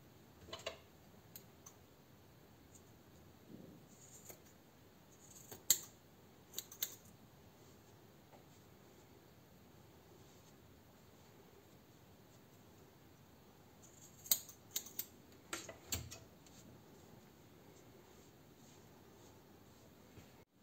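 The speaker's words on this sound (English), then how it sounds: "And now you can cut all these yarns how long you want." Scissors snip through bundled yarn for tassels, faint scattered clicks and cuts in two short bursts separated by a quiet pause, close by with no talk.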